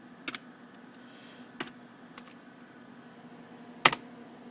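A few sparse, quiet keystrokes on a computer keyboard while entering a shutdown command on a home server, with isolated clicks spread over several seconds and no talking.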